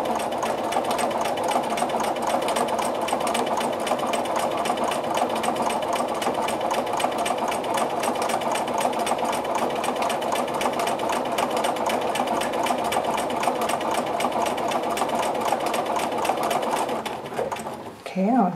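A sewing machine stitches quilting lines in a grid-based apple core design, running in a steady, continuous rapid whir for nearly the whole stretch before slowing and stopping at the end, with a voice talking over it.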